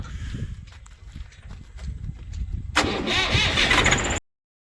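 Low irregular engine rumble and clatter, then a tractor engine catches with a sudden louder, rougher roar before cutting off abruptly.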